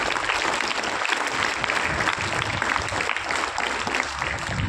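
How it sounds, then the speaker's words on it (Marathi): An audience claps together in steady, dense applause that fills the room for several seconds without a break. "येते सगळ्यांना स्वतःसाठी एक छान टाळ्या"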